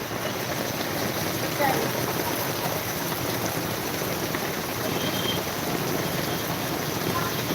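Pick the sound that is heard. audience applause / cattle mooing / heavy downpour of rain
heavy downpour of rain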